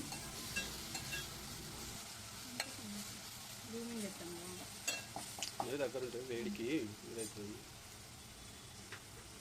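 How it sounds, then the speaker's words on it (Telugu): Mutton with spices and fresh mint stirred and frying in a pan for an Afghani mutton curry: a steady sizzle with scraping spoon strokes, and a voice talks briefly over it in the middle. "ఇవన్నీ వేసుకున్న తర్వాత వీటిని బాగా మిక్స్ చేసుకోవాలి"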